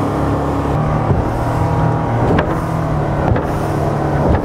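The engine of a self-built Pegasus 450 motorboat runs on its maiden trip over choppy water, a steady, loud drone with no break.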